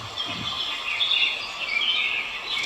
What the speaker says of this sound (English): He was breathing in the fresh air, watching the birds sing